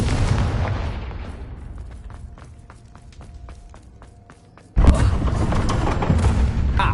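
A Confringo blasting curse from the Hogwarts Legacy video game goes off: a crackling magical buildup of sharp ticks fades briefly, then a sudden loud explosive boom erupts and rumbles on to the end.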